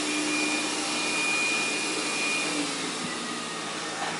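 A Xiaomi Dreame W10 robot vacuum cleaner with rotating mop runs at strong suction, a steady close whooshing whir with a faint high tonal whine, even in level throughout and without voices.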